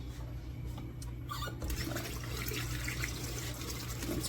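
Tap water runs steadily into a sink while hands are rinsed, a continuous close hiss and splash with no talking.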